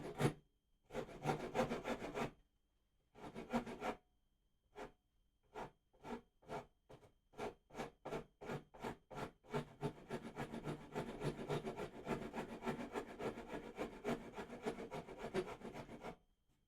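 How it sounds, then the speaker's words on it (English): A hand rasp shaping the wooden transitions of a guitar neck, heard alone and close as rough scraping strokes, first in a few long pulls with pauses, then in a quick steady rhythm of short rasping passes. "We get our rasp and we start these transitions here."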